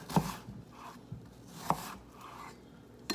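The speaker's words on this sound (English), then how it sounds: "I slice the onion with the grain, as it were." A knife slices through an onion on a board, with a few sharp, separate cuts spaced out over a few seconds and a soft rasp between them, close and quiet, with no voices.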